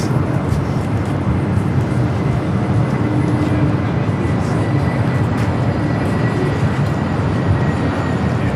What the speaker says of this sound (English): the Dreamliner heading back to Warsaw.